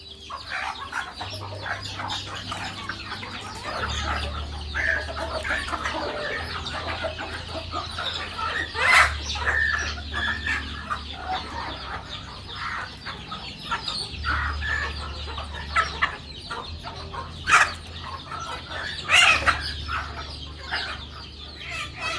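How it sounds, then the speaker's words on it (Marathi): Several free-range desi chickens cluck and peck nearby while eating rice, busy and irregular, with occasional louder squawks over a low background hum. "कोंबड्या बघा किती आवडीने खात्यात"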